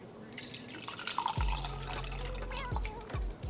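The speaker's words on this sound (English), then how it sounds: "So just gonna add a little bit of water." Water drips and trickles into an apple cider vinegar drink, a quiet pour with a few distinct plops near the end, close by and faint.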